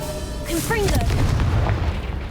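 A Confringo fire spell blasts in Hogwarts Legacy, a single loud booming burst with a rumbling tail and a brief shouted voice over it.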